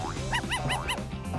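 A puppy gives a quick run of about four high, sharp yipping barks in close succession while chasing, close and clear.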